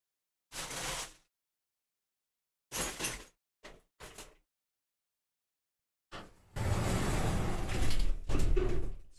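A sliding door is closed in a home studio: several short separate bursts of rolling and knocking, then a longer louder sustained rumble of the door running along its track.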